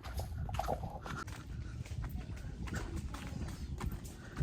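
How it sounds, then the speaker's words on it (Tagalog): Horses on a large farm in Calamba produce faint clip-clopping hooves and soft movement sounds, distant and quiet against a low outdoor background. "Ah, ayan, andun yung mga kabayo."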